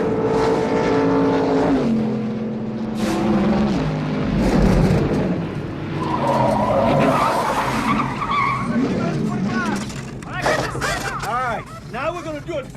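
A race car on a track roars past with shifting engine pitch, tire squeal and skidding, loud and continuous, while voices talk over parts of it.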